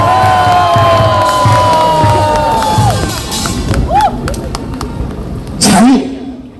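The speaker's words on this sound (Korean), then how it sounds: "여러분 스스로에게 박수를 한번 크게 쳐주시기 바랍니다." A crowd at a political rally cheers and applauds loudly for a few seconds, the roar fading as scattered shouts and a speaking voice come through toward the end.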